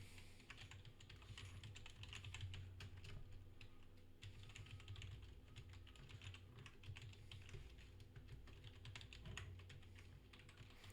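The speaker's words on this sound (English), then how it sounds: "let me just do the old thing of typing out my full address" Someone types on a computer keyboard, producing a quiet, continuous run of rapid keystroke clicks with uneven rhythm and brief bursts.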